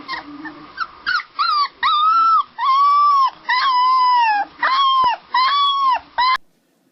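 A golden retriever puppy lets out a close, loud series of about eight drawn-out whining howls and yips in quick succession, with little else in the background.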